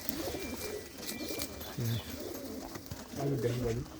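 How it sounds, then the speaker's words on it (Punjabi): Low, throaty pigeon cooing in a few short bouts, fairly close, with a hum of background noise. "ਇਹ ਬਰੀਡਰ ਕਬੂਤਰ ਹੈ ਇਹਦਾ ਬਹੁਤ ਚੰਗਾ ਪਰਿੰਦਾ ਆ"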